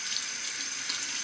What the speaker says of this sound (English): Cold water rinse on the razor.